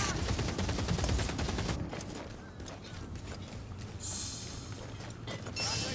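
Rattling Gunner from Warhammer: Vermintide 2 unleashes a rapid burst of dense gunfire for almost two seconds, then falls silent, leaving battle ambience and brief clanks. A voice may come through faintly.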